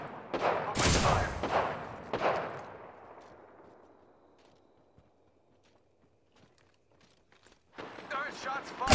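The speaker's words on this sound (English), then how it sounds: "Darn shots fired and they're hitting me." Gunfire bursts in the shooter game Apex Legends: a few loud, sharp volleys up front that decay into a long fading tail, then scattered faint shots before another loud burst at the close.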